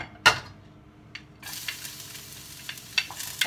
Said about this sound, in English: Now it's time to saute our garlic first.